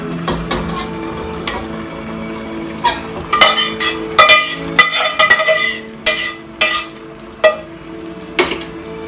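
Rice is tipped into a pot for chicken biryani, giving a series of sharp clattering knocks and scrapes of utensil on metal, loud and close, with a low hum beneath.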